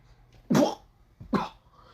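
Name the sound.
cough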